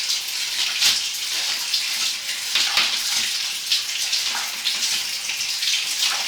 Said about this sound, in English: now I've got bathtub running as well as I just flushed another toilet